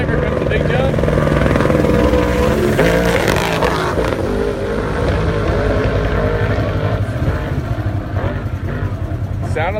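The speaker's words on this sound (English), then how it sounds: "I see a heli." A helicopter follows desert race trucks during qualifying at the 2018 Parker 425, a loud, steady, churning roar of rotor and engine noise, continuous and close throughout, with speech mixed in.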